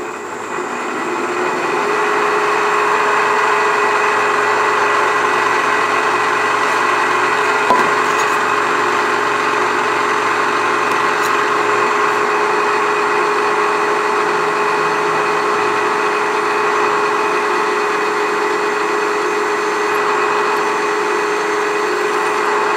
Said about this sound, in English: Then we're going to drill a number 30 drill for an M4